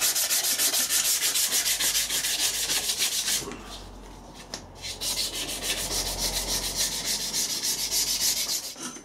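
Surface rust on the back of a mini mill table is sanded by hand with fine wet and dry paper, a loud, close rhythmic rasping that runs almost continuously with a brief pause midway.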